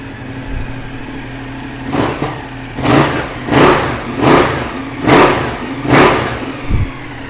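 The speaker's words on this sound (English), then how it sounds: "it has also got the Arrow exhaust and it has an ECU remap too, so it sounds awesome" A 2015 Ducati Multistrada 1200 S with an Arrow exhaust and ECU remap idles with a deep throb, then revs in five loud, evenly spaced blips, each rising and dropping quickly, close by.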